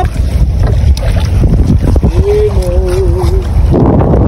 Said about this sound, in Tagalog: Timog kasi, malakas yung hangin.